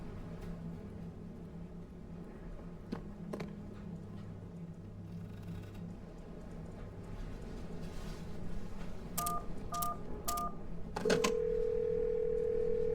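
A telephone in an escape video game: a low hum, then three short dual-tone dialing beeps in quick succession, followed by a steady, louder tone that holds to the end.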